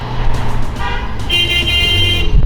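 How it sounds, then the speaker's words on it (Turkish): A car horn sounds in a few short toots and then a longer blast, loud and nearby, over idling traffic. "Tat tat ne basıyorsun bu mübarek yerde kornaya?"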